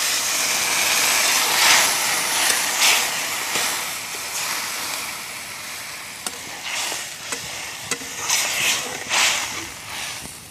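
Sea fish and eggplant curry gravy boils in a pan, a bright steady hiss and sizzle with scattered bubbling pops and clicks, close and moderately loud.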